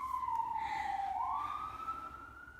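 An ambulance siren wails somewhere beyond a city street, one long rising and falling sweep that stays faint and distant over a low steady background rumble.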